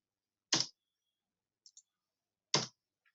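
A computer keyboard is struck in isolated presses: two sharp, loud keystrokes about two seconds apart, with a couple of tiny faint clicks between them, surrounded by silence.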